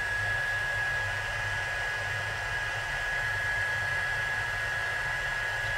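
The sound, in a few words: heat gun used for heat embossing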